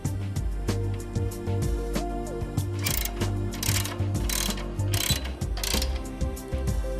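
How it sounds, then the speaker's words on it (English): A mounting plate is bolted onto a conveyor belt structure while a primary scraper is installed: a busy run of ratcheting clicks and metallic mechanical rattling with bursts of bright, hissy noise, close and continuous, with no voices. "Center the first plate over the holes and use the bolts provided to attach it to the conveyor"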